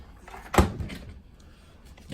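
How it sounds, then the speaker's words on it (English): A door is shut once with a short, close thud near the start of a quiet indoor space during an incubator build, then light room noise follows. "Just want to be able to shut the door."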